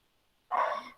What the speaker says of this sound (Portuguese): Perdão, gente, meus cachorros, eu não sei se vocês estão conseguindo ouvir.